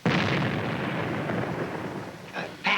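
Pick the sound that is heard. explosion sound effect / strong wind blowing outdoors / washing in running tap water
explosion sound effect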